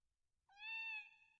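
A stray cat in the video game Neko no Kaerimichi gives a single clear, drawn-out meow that swells and then fades, close and alone over near silence.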